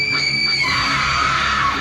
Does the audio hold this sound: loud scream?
yes